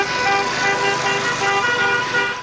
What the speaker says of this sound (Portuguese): um grande buzinaço.